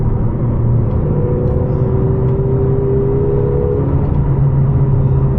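A 2022 McLaren GT sports car in track mode cruising at steady speed, with a loud, continuous engine drone and road rumble throughout, no talking.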